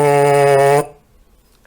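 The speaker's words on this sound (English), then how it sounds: "you get a good breath in, and then you blow through it with your lips buzzing" Lips buzz through a trombone mouthpiece in one steady, bright, buzzy tone held for under a second, then cut off sharply into near silence; close and loud, no talking.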